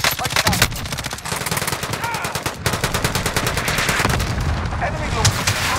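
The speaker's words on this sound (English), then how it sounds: "Enemy cluster strike incoming. Take cover." Cluster strike explosions in Call of Duty Warzone, a dense rapid barrage of loud blasts and gunfire-like cracks rolling continuously, with a brief pause before the pounding resumes.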